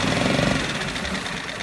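A 2.6 HP outboard motor runs with a close, steady, buzzing engine drone and a faint rhythmic pulse, with no talking over it.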